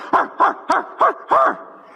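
A man imitates a dog with five sharp, hoarse barks in a quick, even series, loud and close, with no other sound around them.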